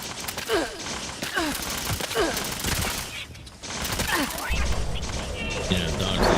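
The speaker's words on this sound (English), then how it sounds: "Expect missile strikes." Missile strikes in the video game Fallout 76 land as a rapid series of booming, crackling explosions and gunfire-like bursts, loud and dense, with some speech mixed in.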